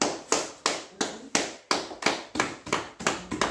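A church congregation claps in rhythm, roughly three steady claps per second, loud and close with no voices over it.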